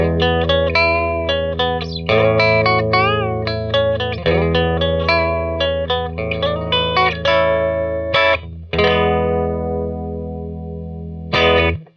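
Electric guitar lead licks on a Fender Mustang bridge pickup with a dirty, driven tone, loud with quick single-note phrases, bends and sustained notes, played alone with no talking.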